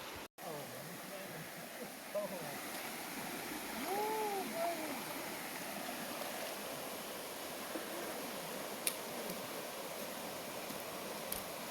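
Steady broadband rush of creek water flowing at a trail crossing, continuous and fairly soft, with a brief splash or bump near the start and a few faint voice-like tones midway.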